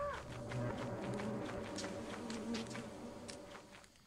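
Swarms of Circuit Beast creatures buzzing in a video game, a layered insect-like drone with scattered skittering and footstep-like taps, moderately quiet and fading toward the end.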